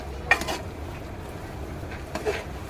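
A spoon stirs dal khichdi in a pot, giving a couple of faint metallic clinks and soft scraping over a low kitchen background.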